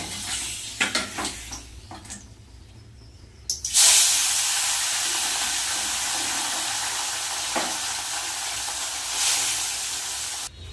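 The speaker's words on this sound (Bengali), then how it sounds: "তেল কিন্তু গরম হয়ে গেছে এবার মাছগুলো ভেজে নেব" Bele fish frying in hot oil in a pan, a loud steady hiss and sizzle starting abruptly partway through after a few soft kitchen clatters, continuing without talk.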